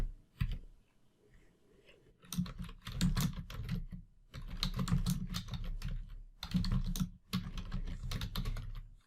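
Bursts of rapid key clatter on a computer keyboard as a key phrase is typed in, several close, busy runs of clicks separated by brief pauses, with no voices.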